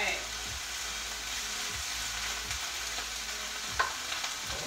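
Vegetables sizzle steadily in a hot pan for stir-fry noodles, a continuous close frying hiss with faint rhythmic scraping underneath and a brief clink near the end.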